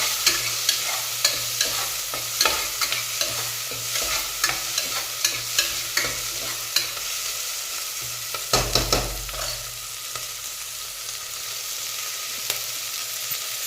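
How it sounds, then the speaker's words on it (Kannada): Green peas frying in a pan for tomato bath, a steady broadband sizzle with repeated sharp clicks and scrapes of stirring throughout and a louder burst near the middle, close and with no talk. "ಒಂದು ಇಡೀ ತೊಗೊಂಡಿದ್ದೀನಿ ಬಟಾಣಿನ, ಇದನ್ನು ಫ್ರೈ ಮಾಡ್ತಾಯಿದ್ದೀನಿ"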